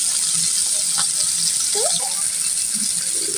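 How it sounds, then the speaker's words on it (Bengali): Hilsa fish pieces fry in hot oil as they are turned in the pan for making a hilsa and Malabar spinach curry, a continuous bright sizzle with a few light scraping and clattering touches. "মাছগুলো আমরা উল্টিয়ে পাল্টিয়ে ভেজে নেব"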